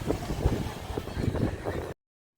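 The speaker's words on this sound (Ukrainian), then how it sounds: "Що це за вітер?" Strong evening wind roars and buffets steadily at a Black Sea beach in Chornomorka, Odesa, for a couple of seconds, then cuts off abruptly.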